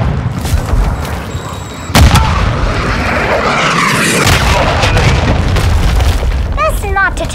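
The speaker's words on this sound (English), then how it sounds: "Hostiles launched a cruise missile." A sharp, heavy boom from a cruise missile strike in the Call of Duty first-person shooter, followed by a sustained roar of explosions and debris, loud and close, with voices talking over it.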